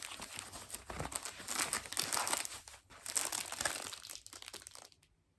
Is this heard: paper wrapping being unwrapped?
yes